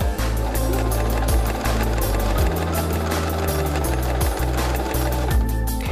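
A sewing machine stitches decorative stitches on fabric panels with mismatched threads. It makes a fast, continuous mechanical rattle of rapid needle strokes with slight shifts in pace, loud and close, with no talking.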